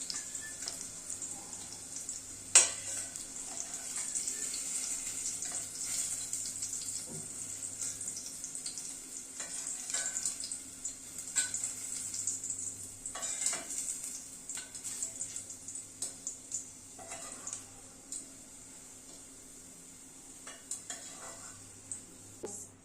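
Capsicum sautéed in oil for a dhaba-style veg Kolhapuri, a faint steady hiss under frequent spatula scrapes and metal clinks against the pan, close by, with no voices.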